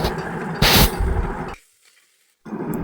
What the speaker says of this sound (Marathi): आणि आपण जो मसाला करून घेतलेला आहे तो सुद्धा आपण यामध्ये ॲड करायचा आणि पूर्ण सगळे हे मिश्रण व्यवस्थित परतून घ्यायचे